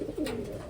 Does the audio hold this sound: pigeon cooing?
yes